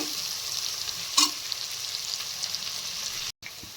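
Onions brown in frying masala for a Punjabi-style methi matar malai, a close, continuous sizzle with a brief louder crackle and a short gap near the end, no voices present.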